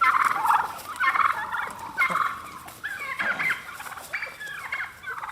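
Several turkeys gobble in repeated, overlapping bursts throughout, close and fairly loud, with brief pauses between calls.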